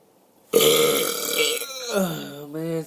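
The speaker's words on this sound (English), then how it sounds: "I dare you to try this. My next burp." A person burps on purpose into a close microphone, letting out one long, loud, deliberate belch that changes pitch and carries on for over two seconds.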